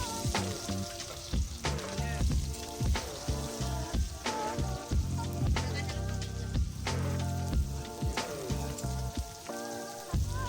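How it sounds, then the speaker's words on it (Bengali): Dried red chillies, bay leaf and whole cumin sizzle in hot oil in a kadai for ghugni, giving a loud, dense, crackling hiss with stirring scrapes over background music. "তেলটা ভালো মতো গরম হলে শুকনো লঙ্কা তেজপাতা আর গোটা জিরে কিন্তু ছেড়ে দিয়েছি"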